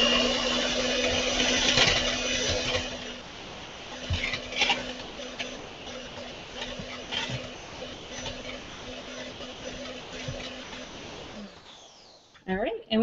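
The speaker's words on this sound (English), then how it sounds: "start mixing it slowly so you don't splatter powdered sugar all over your house" An electric mixer whips egg whites with powdered sugar for lemon cake squares, its steady motor hum running on a constant tone at moderate volume with clattering beater taps, then cutting out near the end.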